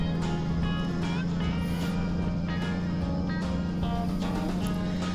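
Truck engine in American Truck Simulator: a steady, droning hum that holds at an even pitch throughout, with faint background voices.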